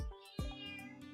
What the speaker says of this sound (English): He's like meowing.